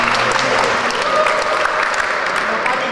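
Warm applause from an audience at a chess tournament ceremony, a dense, steady patter of clapping that holds for the whole stretch without pause.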